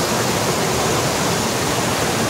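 Roaring water at Ram Tirtha in Similipal, a steady, loud, dense rush of falling and churning water with no break and no voices.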